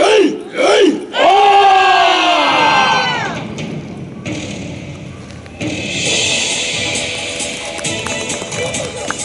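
A costumed samurai warrior troupe and gathered crowd in Nagoya shout a rhythmic battle cry at an outdoor martial performance, loud massed voices rising and falling, followed by broad cheering and crowd noise.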